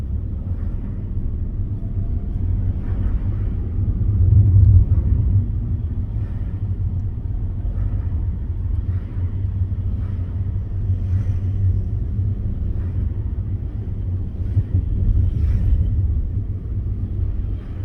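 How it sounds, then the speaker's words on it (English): Big vehicles pass a car on the road during a driving lesson, heard as a low, steady engine and road rumble from inside the car with a slight swell midway, no talk. "We've got big vehicles coming towards us, so there's definitely no space."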